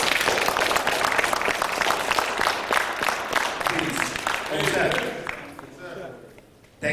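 Audience applause and crowd noise greet a speaker walking out at a martial arts extravaganza on the Kemetic origins of martial arts, loud and sustained, with voices mixed in, fading toward the end.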